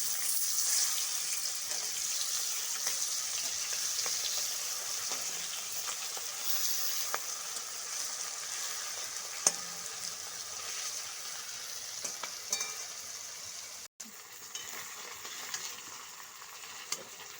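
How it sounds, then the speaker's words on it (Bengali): Prawns frying in oil in a pan for a Bengali malai curry, a steady close sizzle throughout with occasional soft clicks of stirring and turning. "চিংড়ি মাছের এক পাশ ভাজা হয়ে গেছে, এবার আমি উল্টে দিচ্ছি"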